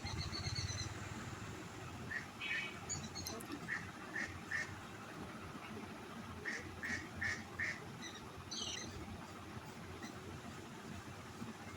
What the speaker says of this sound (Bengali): আর হাঁসগুলো খুব ডাকছিল পুকুরে আমাদের পুকুরে অনেক হাঁস আছে